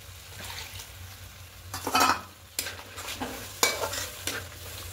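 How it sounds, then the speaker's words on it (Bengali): Green peas for matar paneer being stir-fried in a pan, a steady low sizzle punctuated by several loud scraping sweeps of a spatula at irregular intervals, close and alone without talk. "এবার এখানে মটরশুঁটিটা দিয়ে দেবো। একটু ভালো করে কষিয়ে নেব।"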